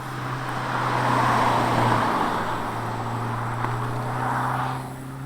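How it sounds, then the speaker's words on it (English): A Honda Civic Type R FK8 cruises along curvy backroads, its engine a steady, moderate drone with tire and road noise rising and easing through the bends, no one talking. "we'll drive a little spiritedly, kind of see how the car reacts"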